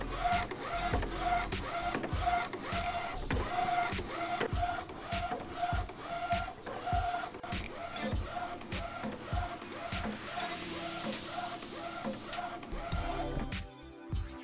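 An inkjet-style home printer prints an art print at fine quality, its head passing back and forth in repeated mechanical sweeps with a regular rhythm, close and fairly loud, ending with a paper-feed whir.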